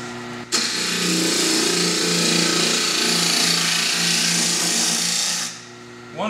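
Wood lathe turning a lampshade blank with the core left in, the tool cutting just above center: a loud, steady whirring hum with a tonal drone that starts abruptly and runs for about five seconds before dropping away.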